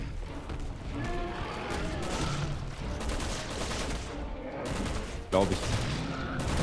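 Heavy gunfire in the video game Resident Evil 6 as ammo is used up: a dense run of overlapping shots and impacts that stays fairly loud throughout, with a sharp hit near the end. A player says a few words over it.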